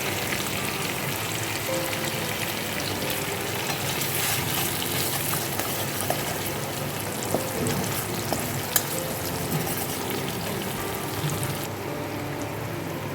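Tomato with ginger paste frying in a pan, a steady crackling sizzle with occasional stirring taps and clicks, no voices.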